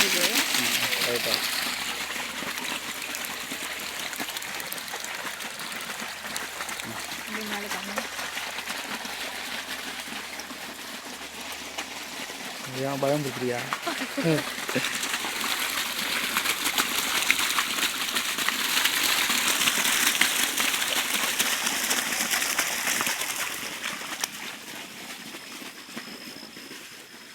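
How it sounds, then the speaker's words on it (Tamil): Water gushing from an irrigation pipe in a garden plot at night, a steady broadband hiss and rush running throughout, swelling louder in the second half, with people talking intermittently over it. "அதுவும் தண்ணி போயிட்டு இருக்கு."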